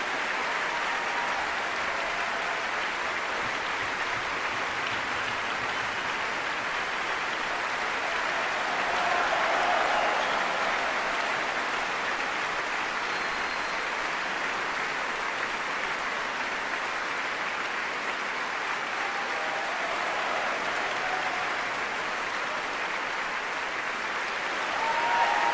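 Triumphant audience applause fills the Royal Albert Hall after a performance of Handel's Samson at the BBC Proms, a dense, steady roar of clapping that holds for the whole stretch with no voices.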